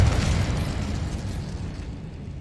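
A fiery Incendio spell bursts in Hogwarts Legacy, a loud roaring whoosh and rumble that starts at full force and gradually fades over a couple of seconds.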